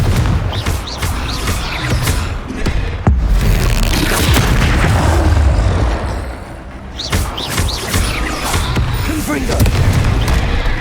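In the Hogwarts Legacy video game, the Confringo spell sets off a rapid run of loud, heavy booming blasts that roll into one another with short lulls between bursts.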